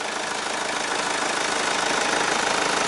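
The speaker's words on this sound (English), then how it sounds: "Diesel engine, very powerful cars these," A Kia Sorento CRD KX-1 diesel engine runs steadily in its clean engine compartment, a constant broadband rumble with a faint knocking texture, alone and without talk.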